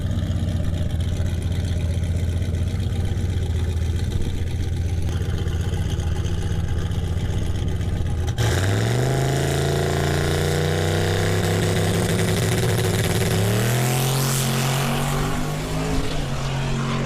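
A loud turbo LS Nova drag car engine rumbles at idle, then revs hard in rising surges, the pitch climbing sharply twice before holding a roaring note.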